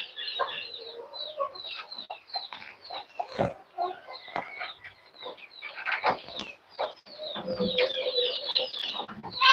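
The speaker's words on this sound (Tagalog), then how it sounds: "Ito po yung ating mga native chicken na crossbreed po ng Rhode Island Red" Many native chickens crossbred with Rhode Island Red cluck and chatter busily at close range, overlapping calls in irregular bursts, with some grunting mixed in.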